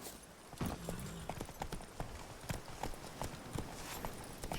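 Roach, a horse in The Witcher 3 video game, gallops with quick, steady hoofbeats that sound close and clear, mixed with faint ambient game sounds.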